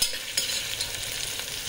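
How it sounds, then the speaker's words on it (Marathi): Chopped onion sautés in a hot pan for Khandeshi masala khichdi, a soft steady sizzle with a few light stirring scrapes, close and alone. "कांदा छान गुलाबीसर रंगावर किंवा मऊ होईपर्यंत परतून घेऊयात"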